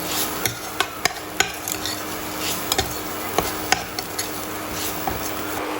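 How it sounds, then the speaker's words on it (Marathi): Grated coconut sautéed in ghee while being stirred: a continuous low sizzle punctuated by sharp, irregular clicks and taps of a spoon against the pan, close and steady with no talking. "बारीक केलेलं खोबरं घालून घेऊयात खोबरं आता आपण थोडंसं तुपावरती परतून घेऊयात"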